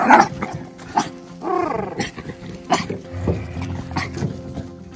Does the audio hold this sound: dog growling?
yes